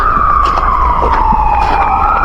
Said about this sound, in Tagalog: na naman yung ambulansya